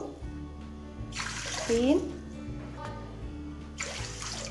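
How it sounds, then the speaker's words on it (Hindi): Water splashes into a pot in two short bursts, close by, while making Belgrami sweets with sugar syrup, as a person speaks briefly in Hindi in between. "और ये 5 कप मैंने पानी डाला है"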